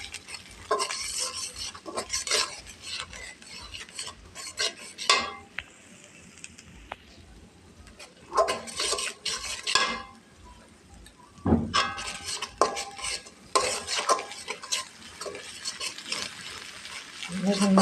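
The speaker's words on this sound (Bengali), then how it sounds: "এখন এই মশলাটা সুন্দর করে ভেজে নেব" Spice masala for a koi fish curry is stirred and fried in a pan, with repeated scraping strokes and a soft sizzle in bursts and pauses. A voice comes in now and then.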